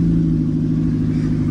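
A car running without its catalytic converter, held at high revs, producing a loud, raw, steady droning exhaust roar with a strong low hum throughout and no talking.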